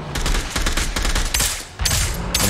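Rapid gunfire from the Scavengers video game during a boss battle, a dense, continuous volley of loud shots filling the clip, with a brief dip near the middle before the firing resumes.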